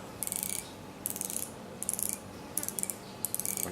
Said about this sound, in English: The bezel is very smooth